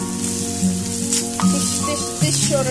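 Curry leaves and green chillies sizzle and crackle loudly with onion in a hot pan, a steady frying hiss with tonal kitchen noise in the background.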